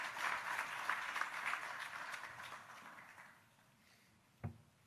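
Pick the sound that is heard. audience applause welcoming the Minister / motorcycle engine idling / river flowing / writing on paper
audience applause welcoming the Minister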